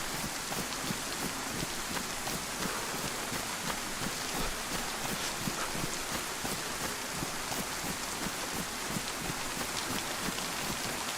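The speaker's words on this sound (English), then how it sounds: "I really hope this rain isn't in for the long haul" Steady rain in the survival video game DayZ on the Chernarus map, a dense continuous hiss of drops on surfaces with no voices, even and unbroken throughout.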